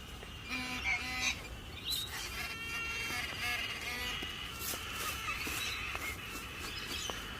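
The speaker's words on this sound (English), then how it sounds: "Those birds are still laughing at me." Outdoor birds near a fence line and tree call repeatedly, honking and chirping notes layered over a busy ambient background, fairly close and continuous with occasional louder calls.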